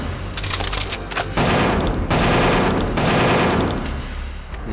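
Rapid bursts of gunfire from the action game Killer7 strike a locker, first scattered shots and then a loud, sustained volley of automatic fire, close and dominant with no voices.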